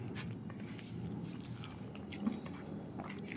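Close, soft chewing of mixed boiled rice, a steady run of moist smacking and mashing sounds at low volume, with one slightly louder bite near the end.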